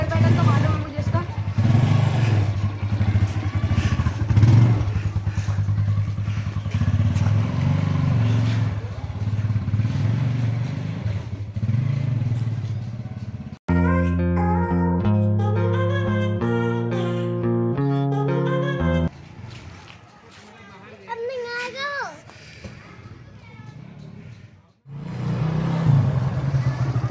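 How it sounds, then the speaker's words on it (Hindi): A TVS Apache motorcycle runs with engine rumble and revving under a rider's steady talk, then background music takes over midway before the engine returns at the end. "चलो अपाचे चलाते हैं"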